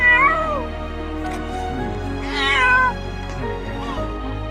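A cat meows loudly several times nearby, drawn-out plaintive cries with short pauses between them.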